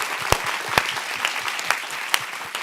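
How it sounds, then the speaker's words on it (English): An audience at a MoMA R&D Salon gives a short, steady round of applause, dense clapping with a few sharper claps standing out. "I want to give you a gigantic round of applause."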